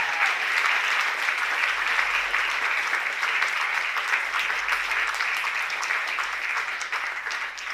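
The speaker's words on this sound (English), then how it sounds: "Give him a round of applause, please." A livestream event audience breaks into steady, sustained applause that fills the room from start to finish, loud and dense with no talk over it.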